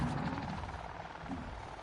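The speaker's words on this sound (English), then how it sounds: "I can hear a helicopter nearby." A helicopter in Avatar Frontiers of Pandora gives off a steady, rumbling rotor drone at a moderate distance, holding fairly even throughout.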